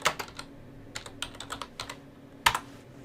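Keys clack on a computer keyboard as a git command is typed, a quick run of separate close taps with one sharper hit near the end, no voices.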